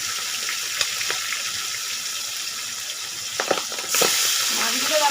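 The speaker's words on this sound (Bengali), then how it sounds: "চলো তাহলে এদিকে কড়াই বসিয়ে দিয়েছি, মাছটা ভেজে নিই।" Fish sizzles in hot oil in a wok, a steady bright hiss with a few sharp pops and spatters, louder toward the end.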